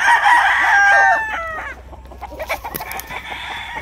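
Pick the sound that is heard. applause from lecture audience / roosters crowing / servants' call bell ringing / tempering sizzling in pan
roosters crowing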